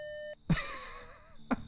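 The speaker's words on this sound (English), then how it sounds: "If you could leave your name and number at the sound of the beep" A single steady electronic answering-machine beep from a video game's treehouse message, clean and fairly loud for about a third of a second before a short pause and a low vocal sound.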